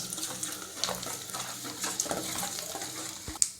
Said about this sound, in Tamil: எண்ணெய் காய்ஞ்சதும் கடுகு, உளுத்தம் பருப்பு, கடலைப்பருப்பு போட்டுக்கோங்க. நல்லா பொரியட்டும்.